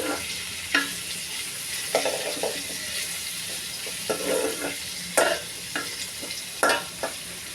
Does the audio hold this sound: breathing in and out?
no